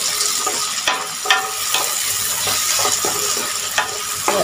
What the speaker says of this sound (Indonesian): terutama saat numis bumbu